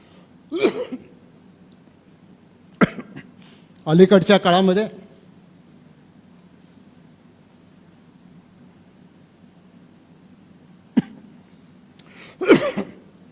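A few short, dry coughs spaced apart, with one longer harsh burst in the middle, close and fairly loud against a quiet room hum.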